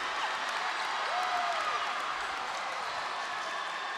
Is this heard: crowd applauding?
yes